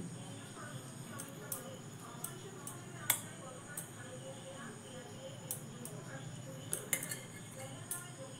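A metal spoon clinks lightly against a bowl while scooping stuffing for a crisp wheat-flour snack, a handful of faint scattered taps in a quiet kitchen.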